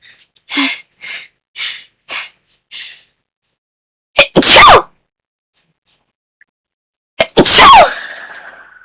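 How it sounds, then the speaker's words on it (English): Two sharp, loud sneezes a few seconds apart, each with a quick inhale before it, following some soft breathy sounds. "Hold on, I got sneeze."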